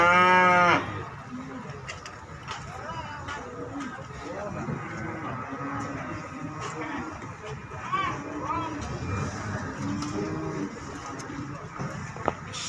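Limousin cattle moo repeatedly in a row at Muntilan cattle market in Magelang, with loud drawn-out lowing calls up close and more cattle calling behind, over a busy market din and people talking.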